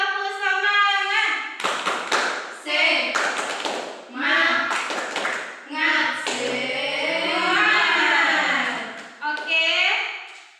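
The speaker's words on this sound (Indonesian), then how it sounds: "Oke, tepuk semangat." Students in a classroom perform a rhythmic spirit clap, sharp patterned hand claps and taps punctuating a loud group chant of young voices.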